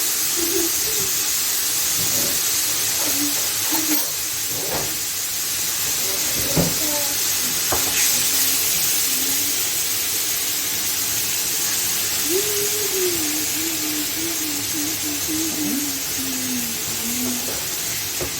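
Chicken in sauce sizzles in a hot pan on the stove with a loud, continuous hiss and crackle that stays steady throughout. Someone talks over it.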